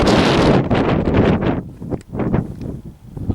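Strong wind buffets the microphone on top of Glastonbury Tor, loud roaring gusts that rise and fall, easing briefly before surging again.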